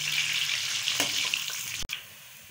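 Chopped onion sizzles in a generous pour of hot ghee in a dhaba-style pan, a steady bright hiss with a faint clink near the end, close up and with no voices.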